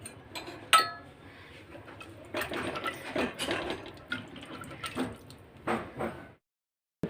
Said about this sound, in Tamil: இப்போ இதுக்கு தேவையான அளவு தண்ணி ஊற்றிடலாம்.